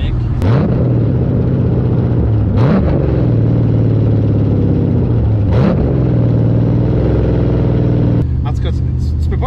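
BMW 330Ci from 2005 with an LS V8 swap and cam, its deep engine burble running steadily with several rising revs, heard from inside the car while people talk throughout.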